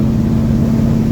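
A 1969 Pontiac GTO with a 428 V8 engine holds a loud, rough, steady rumble under throttle, close to the microphone, with a strong low drone throughout and no talking.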